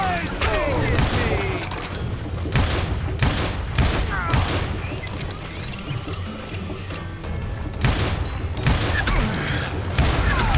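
Revolver gunfire in the Western shooter Call of Juarez Gunslinger: a rapid string of sharp, loud shots in irregular bursts with brief pauses, mixed with mechanical clicks and gun handling noises.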